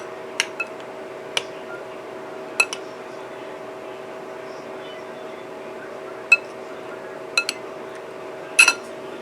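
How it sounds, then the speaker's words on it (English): A spoon stirring a rehydrated freeze-dried apple side dish in a container: sparse light clinks and taps over a steady electrical hum, quiet and close, with no talk. "before I dig into my apple, which I'm going to give a stir again"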